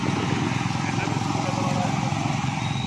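Motorcycle engine running at a steady idle close by, an even low putter throughout, with people talking over it.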